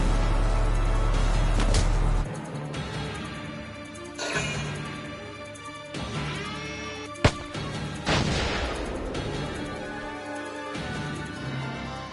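The Underminer fires repeatedly in Valkyria Chronicles: loud booming artillery-like blasts over a constant rumbling battle backdrop, with a sharp crack standing out near the middle.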